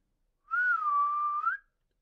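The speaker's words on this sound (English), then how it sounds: "So I'm gonna whistle" One person whistles a single sustained note for just over a second. It is clear and close, with a gentle wavering pitch and silence on both sides.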